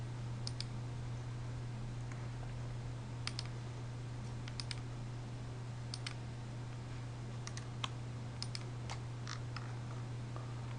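Computer mouse clicks and keyboard taps at a desk, scattered sharp clicks in small bursts over a steady low electrical hum, close but quiet, no voices.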